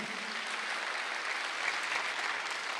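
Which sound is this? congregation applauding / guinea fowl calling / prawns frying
congregation applauding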